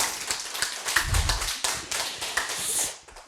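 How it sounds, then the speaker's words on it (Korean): Scattered audience clapping at a Buddhist university lecture on the Agama Sutra comes in a few uneven, sharp slaps that rise into a short spell of applause and then fade. "그 마지막 박수를 한번 쳐주시고,"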